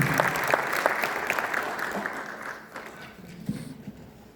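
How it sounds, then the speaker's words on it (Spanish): Audience applause at a book presentation event, scattered clapping that starts moderately full and dies away into a few isolated claps by the end. "Otro aplauso, por favor, también para agradecer esta participación."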